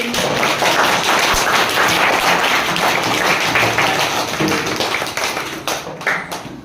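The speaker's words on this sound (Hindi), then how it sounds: "चलिए एक बार खुद के लिए ताली बजाइए सभी कोई" A room of schoolchildren claps for themselves, a dense, loud burst of many hands at once that holds steady for several seconds before thinning into a few scattered claps at the end.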